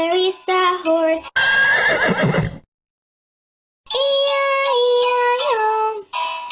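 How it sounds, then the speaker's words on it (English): Repeated horse neighs and whinnies, loud and close, with a burst of noisy snorting or rustle in between and a short silent gap before more drawn-out neighing, set within a children's farm song. "On her farm there is a horse."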